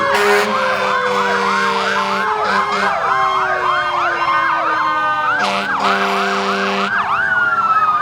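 A Linden Fire Department Engine 1 fire engine siren wails continuously in a Halloween parade, loud and close, with a rapid yelping warble and brief air-horn blasts layered over it.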